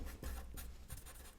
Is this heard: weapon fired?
no